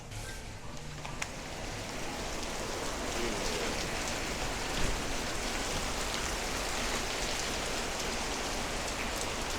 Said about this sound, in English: it's raining today in Osaka